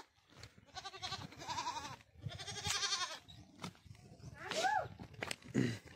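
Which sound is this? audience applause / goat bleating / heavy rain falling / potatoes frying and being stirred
goat bleating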